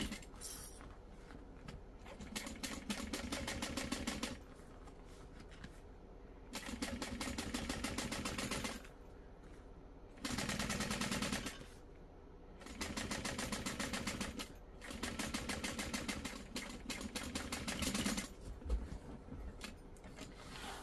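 A sewing machine top stitches a bag seam in repeated bursts of steady mechanical whirring, each run lasting a couple of seconds, separated by short quieter pauses while the fabric is adjusted.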